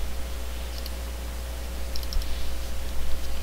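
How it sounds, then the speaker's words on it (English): Light, irregular clicks of keys being typed on a computer keyboard during a Photoshop CS5 session, faint over a steady electrical hum and background hiss, with no voices. "Go ahead and type something."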